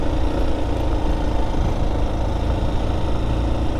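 A motorcycle engine on a quiet mountain road near Ichhakamana temple, on the Fishling–Shaktikhor route in Nepal, gives a steady, moderately loud rumble that holds throughout with no talk.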